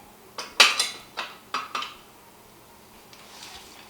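Mutton is added to a pressure cooker: several sharp metallic clanks and clatters of pots and utensils, a handful in quick succession, then quieter faint clinks trailing off.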